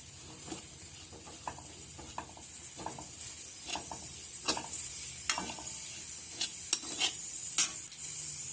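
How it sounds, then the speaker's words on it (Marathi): Wet grated coconut roasting in a hot kadhai for coconut barfi, with a soft background sizzle and a series of scraping, stirring strokes and light metal taps from a spoon against the pan, close and fairly quiet, without voices. "त्यात आपण हा ओला नारळाचा किस त्यावर परतून घेऊ व्यवस्थित जेणेकरून त्यातलं सर्व मॉइश्चर पूर्णपणे सोकून जाईल"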